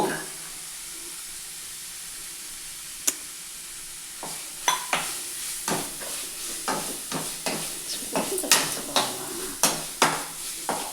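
Ginger garlic paste and turmeric stirred in a hot pan while cooking chicken kurma, with a soft steady sizzle under repeated scraping clicks of a spoon against the pan, near and fairly quiet.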